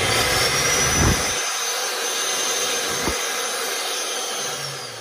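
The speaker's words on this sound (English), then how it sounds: "Let's turn the dryer on, run it with cool air." A Royal Sovereign RTHD-790S hair dryer on its cool setting blows with a constant loud whooshing roar, close and steady, with a couple of faint knocks.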